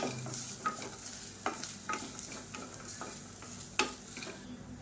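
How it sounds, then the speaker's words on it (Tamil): A spoon stirs grated coconut with spices in a hot dry pan, giving soft scraping strokes and light crackling sizzle at a quiet, close level, with no talking. "இதையும் சேர்த்து நல்லா வறுத்துக்கலாம்"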